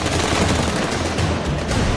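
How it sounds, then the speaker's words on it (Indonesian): Corn kernels pop in a covered pan in rapid, dense crackling bursts, loud and close, like a continuous volley of small sharp snaps. "Biji-bijiannya meledak di wajan."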